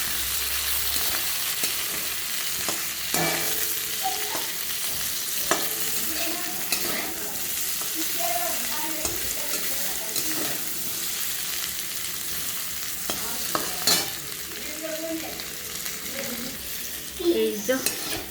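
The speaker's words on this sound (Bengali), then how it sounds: "পেঁপে আলু তেলে ভেজে নিলাম" Papaya and potato fry in hot oil in a pan with a steady, bright sizzle, while a utensil stirs and scrapes through them in irregular clinks and knocks, close up and with no talking.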